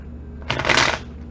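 Oracle cards shuffled for a tarot-style reading, one brief close riffle of papery flutter rising out of a quiet room.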